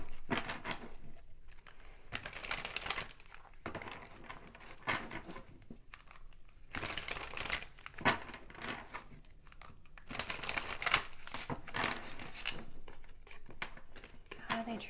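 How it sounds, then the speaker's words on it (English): Oracle cards being shuffled and handled to draw one from the deck, with crisp papery riffles, slides and taps in irregular bursts, close and fairly soft, while someone talks throughout. "I'm going to pull just one more oracle card"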